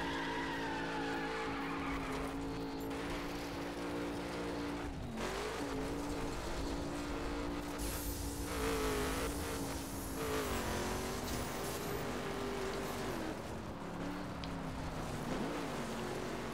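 Engine drone from a rally car in The Crew beta, driven on loose ground around the Grand Canyon and sliding with no grip, carries steadily throughout with wavering pitch and brief tire scrubs, loud and close, no talking.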